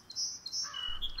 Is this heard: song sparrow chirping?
yes